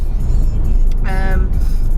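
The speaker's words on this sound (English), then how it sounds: "We are on the motorway" A car drives along a motorway with a constant loud road and engine rumble inside the cabin, while a voice speaks briefly over it.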